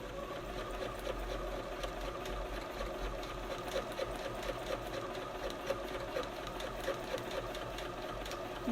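A sewing machine runs steadily through free-motion quilting, a continuous fast mechanical whirr with a regular stitching tick, fairly quiet and with no talk over it.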